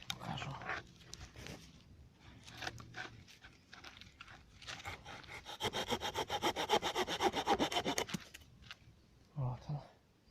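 A hand saw cuts wooden bars outdoors, first in scattered rough strokes, then in a fast, steady back-and-forth rhythm, close and clear, with a voice speaking briefly before and after.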